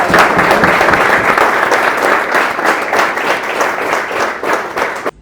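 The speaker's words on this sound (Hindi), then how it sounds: "तो एक बार जोरदार तालियों से।" Loud, dense applause from an audience at a student results celebration, continuous clapping that holds steady for several seconds and cuts off abruptly at the end.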